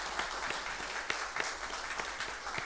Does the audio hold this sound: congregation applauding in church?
yes